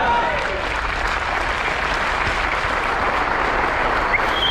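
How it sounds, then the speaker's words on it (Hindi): Dense, steady applause from an audience during a trophy presentation at an academy celebration program in Bhilwara, with loud sustained clapping filling the whole stretch without pause. "आज तक की जिंदगी की सबसे ज्यादा ताली बजानी है"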